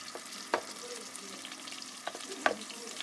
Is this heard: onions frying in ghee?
yes